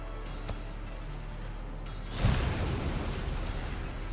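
A booming explosion erupts midway through a battle in the Valkyria Chronicles video game, its rumble sustained and decaying after a quieter low mechanical hum.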